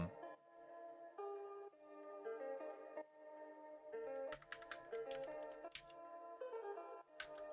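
Computer keyboard typing during game development in Godot, quiet rapid keystrokes in bursts, denser clicking in the second half, close and alone without speech.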